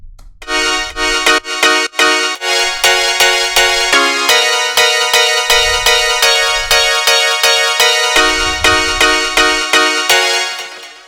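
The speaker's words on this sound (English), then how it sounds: "the preset here from category Plucked, and then the preset called Etnolead" A Nexus synth Etnolead preset from the plucked category plays a bright, rhythmic lead line of short repeated plucked notes with a steady pulse. Light low thumps sit beneath it, and the sound is clear and loud with no voices.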